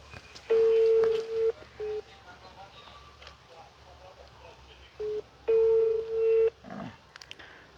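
Telephone keypad tones sound while a call is placed: a long beep, short beeps, a pause, then more short and long beeps, fairly close, with faint background noise between them.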